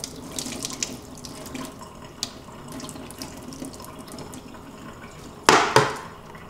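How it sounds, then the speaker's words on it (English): Water runs from a tap into a bucket feeder in a bee yard. A soft, steady trickle near the mic ends in a sudden louder gush of splashing pouring. "We're going to fill it with water just for this demonstration."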